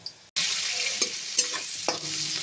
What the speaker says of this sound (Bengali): স্বাভাবিক গাজরটা একটু ভাজতে সময় লাগে